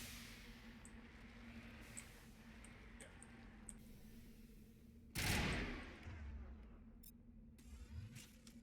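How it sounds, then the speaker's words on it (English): A burst-fire weapon in the video game Mass Effect lets off a loud, close blast that stands out against a steady low game hum, followed by a rumbling tail and faint scattered ticks. "I really hate, burst action weapons."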